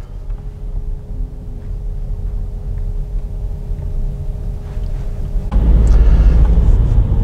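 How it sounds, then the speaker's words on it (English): An MG5 EV Trophy electric car pulls away from a standstill once the accelerator is pressed; a steady low cabin hum and road rumble rise suddenly into a louder, fuller drone as it moves off. "Touch the accelerator and away you go."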